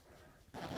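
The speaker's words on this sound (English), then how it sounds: "Zip the skirt up." A skirt zipper is pulled up in a close, quiet clothing-styling setting: a brief soft rasp that swells in the second half of a short moment, with no talk.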